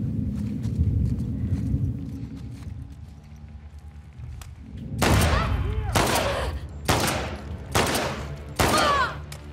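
Gunfire in The Last of Us Part II: five loud, sharp shots spaced about a second apart, each with a short ringing tail, following a stretch of low rumbling ambience.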